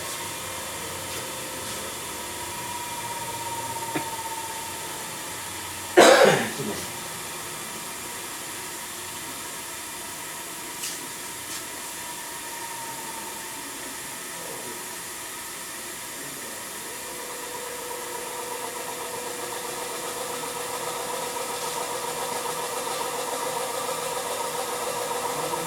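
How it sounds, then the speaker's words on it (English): A Semitool 270-F spin rinse dryer spins at low RPM in a steady mechanical whir, with one sharp loud clack early on before the even hum continues. "We're now ramping down into dry 2, which is the traditional low RPM for the Semitool."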